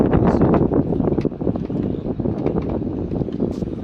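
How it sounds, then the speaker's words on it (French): Strong wind buffets the microphone in constant, loud gusts, a rough rushing roar with no other sounds. "ici il y a beaucoup de vent, tiens."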